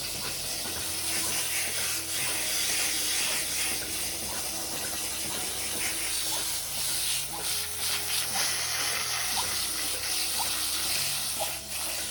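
Cold water from a hose sprays steadily as a cow's hoof is washed on a farm during trimming, a continuous loud hiss with faint clunks underneath.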